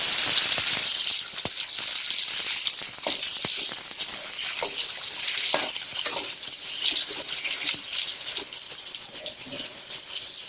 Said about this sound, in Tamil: இது மீதி இருக்க எண்ணெயிலே தக்காளியும் வதக்கிடலாம்.